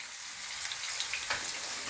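Finely chopped onion frying over low heat in a pan for a Spanish tortilla, a steady soft sizzle with faint crackles and a light stir near the end, no talking.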